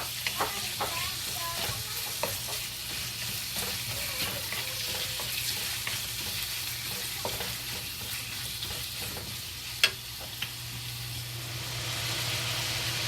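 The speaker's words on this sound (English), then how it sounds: "Right now just fry the bacon." Bacon fries in a pan for Chinese fried rice, producing a soft continuous sizzle with scattered pops and crackles and a few sharper clicks from stirring, at a fairly quiet level.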